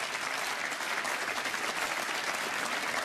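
Snooker crowd at a Scottish Open semi-final breaking into sustained, dense applause, a steady wash of clapping that fills the hall throughout with no pauses.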